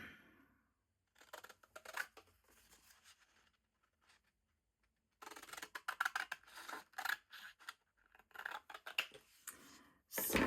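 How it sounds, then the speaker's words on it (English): Large scissors snip through paper for a valentine envelope folio in close, crisp bursts of quick cuts, separated by short quiet pauses. "the bigger scissors works better"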